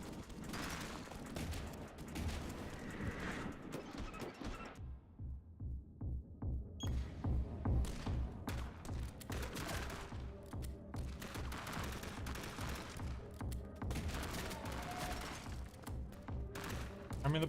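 Rapid video-game gunfire from a shotgun-wielding cop character, dense bursts of shots with a short pause, loud and continuous over music-like game sound.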